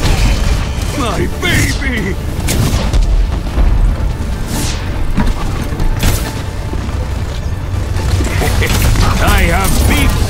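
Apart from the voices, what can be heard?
turrets being destroyed, explosions from video game Overwatch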